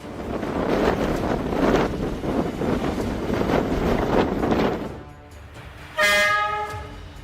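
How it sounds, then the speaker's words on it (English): Strong wind nearing hurricane strength, around 33 to 34 meters per second, roars and buffets the microphone in loud, surging gusts for about five seconds. A train horn then blares sharply nearby. "With winds reaching 33 to 34 meters per second, conditions were approaching hurricane strength."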